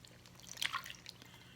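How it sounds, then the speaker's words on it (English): Water poured into a pot of homemade chili, a brief dripping, splashing trickle lasting under a second, fairly quiet and close, with low kitchen background hum around it. "Now I'm going to add 8 more ounces of water."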